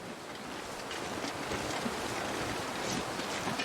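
Cold wind blows steadily in The Long Dark survival game, a broad, even rush of moderate level that holds without a break and has no talk over it.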